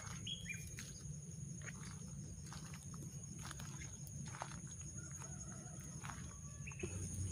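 Birds in an aviary where they are nesting and laying eggs, faint scattered chirps and short calls over a low steady background hum.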